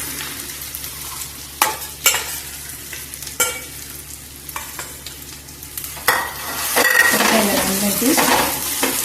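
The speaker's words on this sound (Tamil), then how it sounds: "விழுதை போட்டு நல்லா ஒரு 10 நிமிஷம் நல்லா வதக்கணும்." Spice paste for a lemon peel pickle sautéing in a pan, a soft sizzle punctuated by sharp spoon taps and scrapes against the metal, then a louder surge of frying near the end, with no talking.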